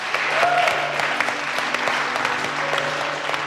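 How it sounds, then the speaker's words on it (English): A studio audience applauding on a televised cooking competition, steady clapping at moderate volume from a crowd, with a few faint tones and brief voices underneath. "Give yourselves a round of applause, for God's sake."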